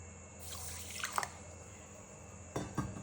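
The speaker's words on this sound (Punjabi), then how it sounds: "ਇਹਨਾਂ ਨੂੰ ਅਸੀਂ ਥੋੜਾ ਜਿਹਾ ਪਾਣੀ ਪਾ ਕੇ ਧੋ ਲੈਨੇ ਆ" Samak rice being rinsed in a little water for a vrat kheer, with faint splashes and soft clinks in two short bursts against a quiet room hiss, no talking.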